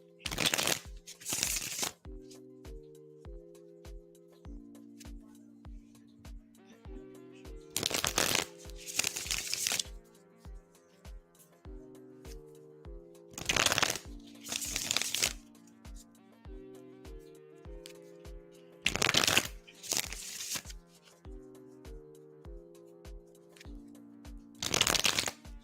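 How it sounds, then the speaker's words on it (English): Tarot cards are shuffled in sharp, crackling bursts that repeat roughly every five to six seconds, close to the microphone, over soft background music with steady sustained tones. "We are shuffling for Sav now."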